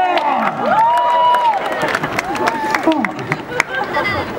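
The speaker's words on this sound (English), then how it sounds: "I declare with a big applause from your side" A lively street-performance crowd in Wrocław cheers and claps, with whoops and excited voices rising over scattered applause.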